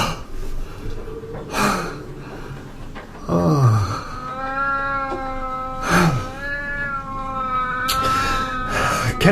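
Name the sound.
cat meowing in a radio drama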